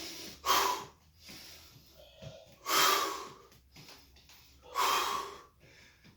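Three forceful, rhythmic breaths in a morning energy-boost breathing exercise, each a sharp close burst of air through the nose or mouth, separated by quiet pauses.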